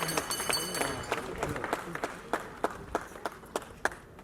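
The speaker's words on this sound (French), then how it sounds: "Est-ce que vous pouvez applaudir très très fort pour M." A crowd claps for a comedian at a Congolese testimonial gathering, scattered hand claps rising from a murmuring room, with sharper isolated claps near the microphone standing out toward the end.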